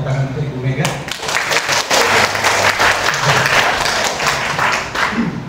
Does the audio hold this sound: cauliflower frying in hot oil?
no